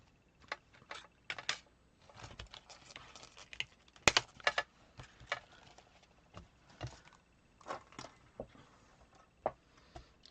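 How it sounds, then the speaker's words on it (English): Designer series paper being cranked through a Stamp and Cut and Emboss die-cutting machine gives a string of quiet, irregular clicks and ticks, close by, with brief pauses between the bursts. "I'm just going to quickly run this through the stamp cut and mini stamp cut and embosser"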